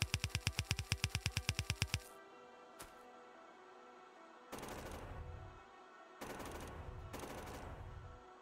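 Gun turrets in Factorio firing at biters: a rapid, evenly spaced burst of loud shots that stops abruptly, then scattered bursts of rattling fire with background game noise.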